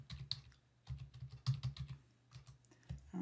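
Rapid clatter of keys on a computer keyboard as a word is typed, short bursts of clicks with brief pauses, close and fairly quiet with no talking.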